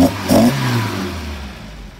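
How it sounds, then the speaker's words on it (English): A Toyota Corolla's 2TG engine with Yamaha head revs up sharply once, then the roar drops back toward a settling idle, loud and near. "Let's give this thing a couple of revs."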